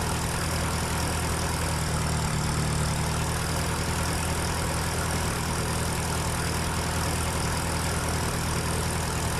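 A tractor engine idles steadily in Farming Simulator 2013, its low, even drone holding constant and close with no talking over it.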